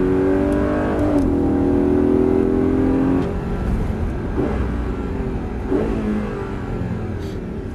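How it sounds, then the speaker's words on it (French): An Audi R8 4.2 accelerates hard on a circuit, its engine note rising loud and close through the gears before easing into a steadier drone. "on accélère"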